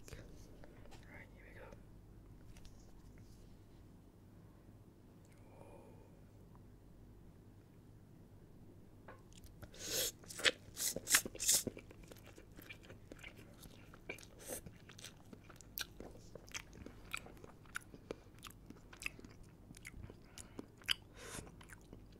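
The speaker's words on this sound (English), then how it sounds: "So let's see how this instant noodle cup thingy" Close-miked eating of Maggi Pedas Giler spicy instant cup noodles: soft whispering at first, then a run of crisp crunching, chewing and slurping bursts that continue steadily to the end.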